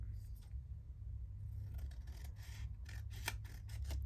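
Scissors snip and rustle through a paper flower being trimmed for a junk journal, with several close, crisp cuts bunched toward the end over a faint low background rumble.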